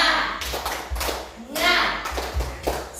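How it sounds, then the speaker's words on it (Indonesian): Group of teachers and students at a junior high school in Boawae doing the tepuk semangat spirit chant, rhythmic bursts of clapping mixed with shouted voices, close and fairly loud. "Tepuk semangat dulu. Tepuk semangat."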